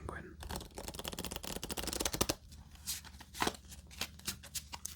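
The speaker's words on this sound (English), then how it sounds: "Let's give this one more shuffle and we'll do our final game of Penguin." Playing cards riffle-shuffled during a game of Penguin solitaire, a close, crisp rapid flutter of cards followed by several softer taps and slides as the deck is squared, recorded quietly.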